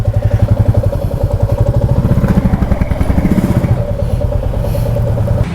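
A motorcycle engine chugs at a low, close idle with a fast steady thumping pulse and some clatter as the bike is pulled in and parked beside a roadside hotel in Himachal Pradesh.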